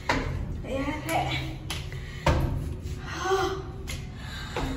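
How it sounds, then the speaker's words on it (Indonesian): A person pants heavily after climbing three flights of stairs, breathing in loud, uneven rasping gasps at close range, mixed with some talking. "Lantai 3, udah ngos-ngosan."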